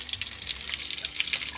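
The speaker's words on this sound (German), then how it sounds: "da kommt dann Wasser und das ist Trinkwasser" Drinking water running from a public tap at Lake Como, a steady hissing, splashing stream heard close and alone.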